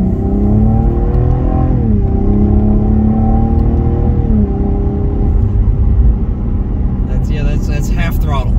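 Cadillac ATS-V turbo six-cylinder engine pulling at half throttle from inside the car, a loud droning note whose pitch rises, dips and climbs again, with a voice briefly heard near the end.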